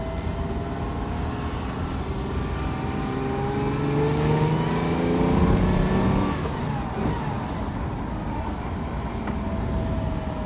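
A 1970 Ferrari 365 GTB4 Daytona coupe's engine is heard from the passenger seat as it drives on the road, a steady, strong mechanical rumble that swells with acceleration around the middle and eases back to cruising.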